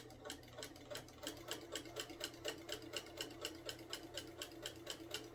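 A sewing machine stitches through a rag quilt's topper, batting and backing, including back stitching, giving a fast, even mechanical ticking rhythm close by with no talking.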